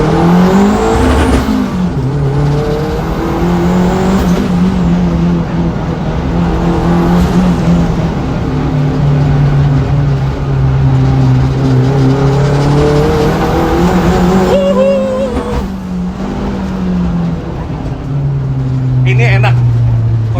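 Modified Nissan Juke on coilovers driving along an empty, bumpy road. The engine drones steadily close up for the whole stretch, with occasional tire noise, while people talk inside the cabin.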